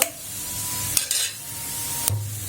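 Garlic and onion with panch phoron frying in a pan, a steady close sizzle broken by a few metallic scrapes and clinks of a spatula stirring against the pan.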